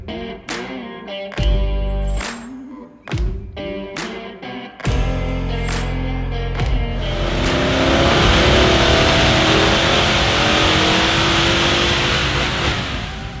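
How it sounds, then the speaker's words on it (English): Supercharged Nissan Y62 Patrol with a VK56 V8 running on a dyno: several sharp revs and throttle blips, then a long sustained loud pull under load with a rising engine note and broadband roar. "We picked up the car with only 250Ks and got it straight onto the dyno to see the baseline numbers."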